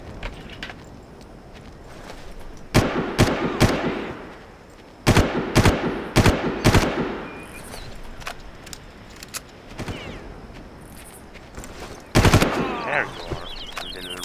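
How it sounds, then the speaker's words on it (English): Bursts of video game gunfire from Far Cry 3, sharp loud volleys arriving in clusters with short gaps between them, over a steady low background of game ambience. "I'm being shot at."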